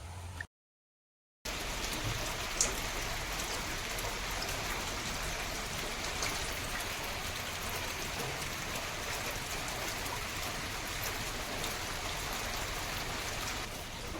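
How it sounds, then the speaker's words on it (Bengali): Steady rain falls outdoors in the Sundarbans, a dense, even hiss of drops on surfaces that holds unbroken from start to finish after a brief gap near the beginning. "আমরা তો বৃষ্টিটা একরকম সঙ্গে করে নিয়ে আসলাম বলা যেতে পারে"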